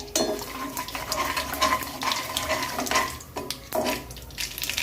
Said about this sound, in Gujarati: આપણી રઈ તતરી ગઈ છે।